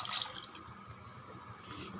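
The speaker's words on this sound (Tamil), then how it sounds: "இன்னும் ஒரு டம்ளர் தண்ணி விட்டுடலாம்." A tumbler of water is poured into a simmering pot of South Indian mutton curry (aatukari kuzhambu), a soft, faint splashing gurgle that trails off over two seconds.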